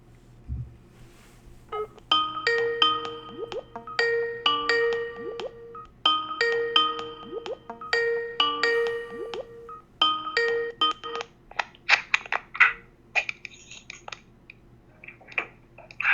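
Phone call placed on a late-night radio show: a repeating electronic ring tone sounds in regular bursts, followed by a few scattered clicks and beeps, fairly clear with no talking over it.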